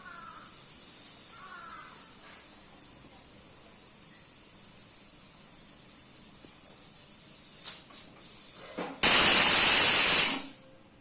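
A pressure cooker on the stove, cooking bitter gourd, lets out one loud whistling hiss of steam near the end, after a long stretch of faint, steady hissing.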